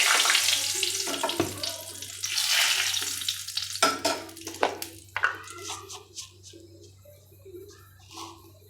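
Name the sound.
whole bay leaves frying in oil in a wok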